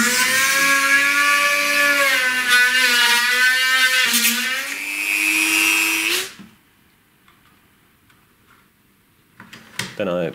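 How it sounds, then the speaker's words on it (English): A power drill whines loudly for several seconds drilling nail holes in a metal Viking shield edge reinforcement, pitch shifting as it bites in, then cuts off into near silence before brief clattering. "I drill the two holes for the nails"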